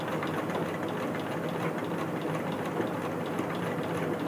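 Sewing machine running steadily and slowly while stitching piping onto a square blouse neckline during a tailoring lesson; a continuous close mechanical whir with no talk.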